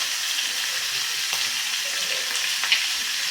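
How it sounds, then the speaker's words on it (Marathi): Finely chopped green chillies sizzle in hot oil for a buttermilk gravy tempering, a steady bright crackle and hiss holding throughout with a few small pops and a light stir near the pan. "बारीक चिरलेल्या हिरव्या मिरच्या घालून घेऊयात"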